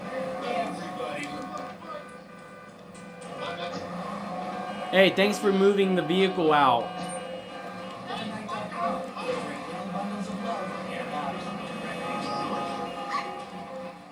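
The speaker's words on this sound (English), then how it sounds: "It's a puppy." Puppy in a Grand Theft Auto 3 radio ad gives high yips and whimpering mid-way through, moderately loud under and between people talking over a busy mix.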